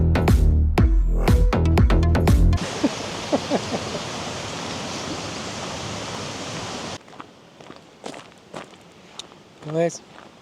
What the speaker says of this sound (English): Guys, I came for the waterfall. We see the waterfall.